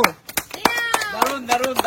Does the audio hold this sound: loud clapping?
yes